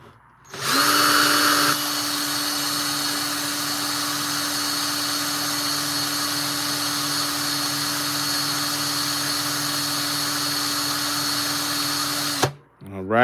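Rotary tool sanding a ring with 800-grit abrasive: a loud, steady high-pitched whir runs unbroken for about twelve seconds, then cuts off sharply near the end, with no talk over it.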